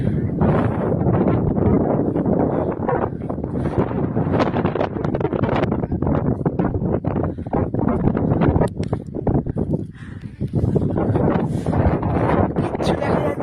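Strong wind roars across a cloud-covered hilltop at Gumbadara near Darjeeling, buffeting the microphone in a loud, continuous rush with brief dips, and no clear talk.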